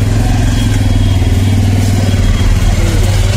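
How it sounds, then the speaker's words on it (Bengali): A motorcycle engine running in a narrow lane between two buildings, a loud, steady low rumble throbbing close by throughout, with no talk. "আর রাস্তা যেহেতু ছোট রাস্তা বাইক ফেসে গেছে।"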